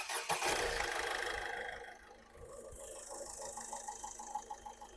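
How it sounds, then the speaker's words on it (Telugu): A 2016 Ford Aspire Titanium's engine cranks and catches, then settles into a steady, smooth idle heard close up, with a brief louder burst at the start before the running hum continues alone. "ఇంజన్ చూసుకోవచ్చు, చాలా స్మూత్ ఉంది సార్"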